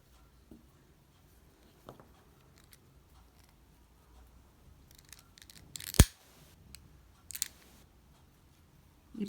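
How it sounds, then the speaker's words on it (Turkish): Scissors snip crochet thread once, a sharp close click standing out from a quiet background with faint handling rustles around it. "İpimi burada kesiyorum."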